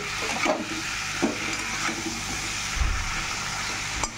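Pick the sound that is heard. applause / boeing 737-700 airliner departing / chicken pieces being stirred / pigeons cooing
chicken pieces being stirred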